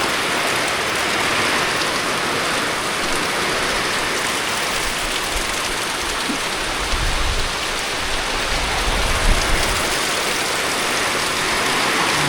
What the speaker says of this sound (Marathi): मोठा पाऊस आला आहे